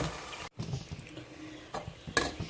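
Achar gosht masala being stirred and browned in a pot over low heat, with quiet sizzling, soft scraping strokes and a sharp spoon clink near the end, faint and close.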